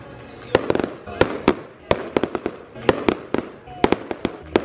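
Fireworks going off at a hotel event, a rapid series of sharp, loud bangs and crackling bursts in irregular clusters, with faint background murmur between the blasts.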